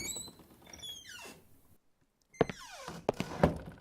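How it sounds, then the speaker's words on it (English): Creaking wooden doors in the horror adventure game Scratches, set in an old house: a drawn-out squeaky creak, a pause of silence, then another creak ending in sharp knocks and thuds, close and alone. "got the doors creaking just perfectly"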